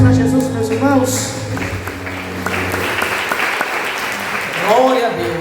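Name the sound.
applause in church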